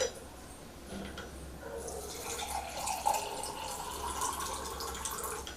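Plain drinking water is poured into a glass during a kangen water demonstration, giving a soft continuous trickling and splashing that builds slightly over several seconds, fairly quiet and close.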